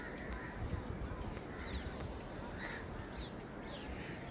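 A large flock of birds calls continuously in a scenic outdoor setting in Uttarakhand, with caws and chirps layered over a steady, dense background wash of sound.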